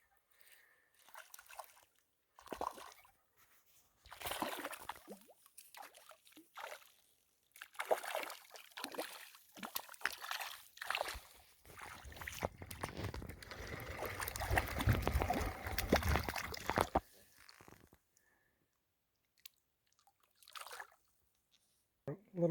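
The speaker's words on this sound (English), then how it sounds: "Little brook." A small brook trickles and sloshes over rocks on a backpacking trail near Lake Hessie, the running water swelling to a steady rush partway through, while a voice talks now and then nearby.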